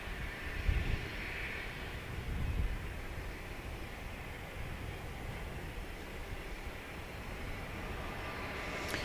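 Boeing 737 MAX 8 airliner arriving at Dallas Love Field at night, a steady distant jet roar with a faint rising whine, continuous and without talk throughout.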